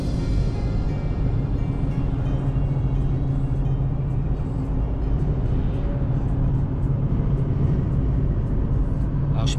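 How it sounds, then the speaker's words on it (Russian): Strong wind buffeting a pickup on a highway in Kazakhstan, a dense, continuous roar and rumble that stays loud and steady throughout with no talking. "Смотрите, какой ветрище идет."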